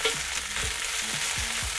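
Scallions and ginger frying in hot oil in a red-hot wok, a steady close sizzle with faint stirring scrapes throughout.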